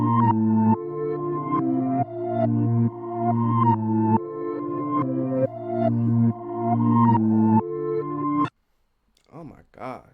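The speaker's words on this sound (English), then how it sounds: "we took the beat and we reversed it" Chopped beat loop played in reverse as the main melody: repeating bright synth-like chords over a steady low pulse in rhythmic blocks, then cutting off into near silence with a couple of swelling reversed tones at the end.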